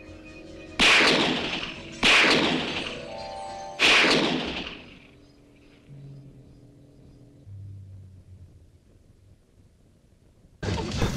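Three loud, sharp gunshots ring out about a second or two apart in a scene from the horror film Sleepaway Camp 3, each trailing off quickly, followed by quieter background sounds and one more abrupt burst at the very end.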